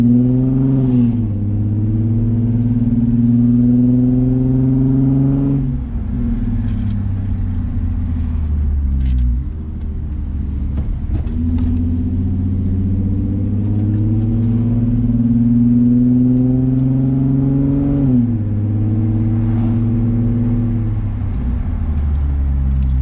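An Infiniti G35 coupe engine hums and revs through several gear changes while driving, pitch climbing then dropping each time, steady and close throughout.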